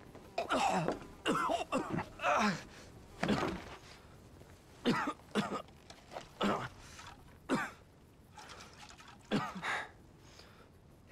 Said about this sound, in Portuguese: Ih, eu tô tossindo também. A tosse dele passou pra mim.